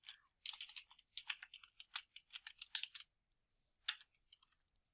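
Rapid keystrokes on a computer keyboard while entering document headings and page numbers, bursts of crisp clicks in quick runs with short pauses between, close and clear with no talking.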